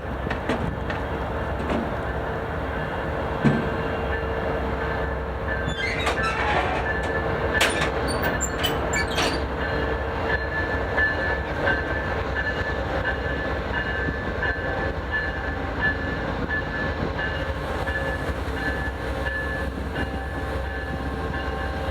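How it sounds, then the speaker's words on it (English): A passenger train led by P42 locomotive DC 100 rumbles steadily past close by in Utah, wheels clattering over rail joints with occasional metallic squeals, continuous and loud throughout. "the train we wanted to see finally arrived, with P42 DC 100 leading"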